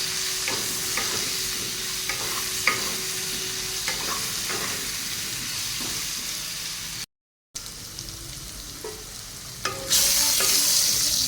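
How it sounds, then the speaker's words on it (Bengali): Potato pieces fry in hot oil with turmeric and salt until browned, giving a soft continuous sizzle broken by repeated scraping taps of a spoon stirring in the pan, with a short silent gap midway. "আলুটা একদম লাল লাল করে ভেজে নেব।"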